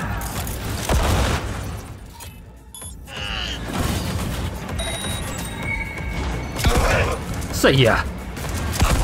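Shotgun blasts boom through a Cyberpunk 2077 firefight, heavy booms and crashes layered with game effects and music, with a voice speaking over the noise.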